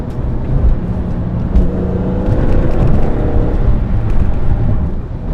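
A BMW M3 with an SMG gearbox drives on the road, its steady engine drone and road rumble continuous and close, with slight surges around the shifts.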